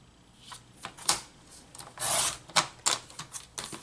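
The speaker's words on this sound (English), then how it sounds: "I'm going to cut these down to 8 1/2 inches" Paper packaging is cut down to size: a string of brief, close scraping and slicing strokes, with one longer swipe in the middle, alone and fairly quiet.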